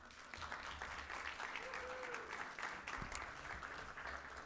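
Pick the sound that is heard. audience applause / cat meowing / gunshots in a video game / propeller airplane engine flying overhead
audience applause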